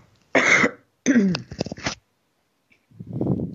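Two quick bursts of coughing, the second a rougher, longer hack, followed after a pause by a short throat-clearing sound, close and loud.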